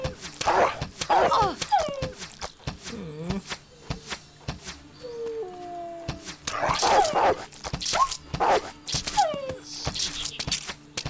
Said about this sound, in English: That's a lot of angry dogs.